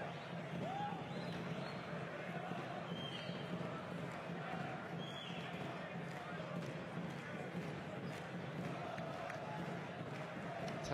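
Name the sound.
basketball arena crowd cheering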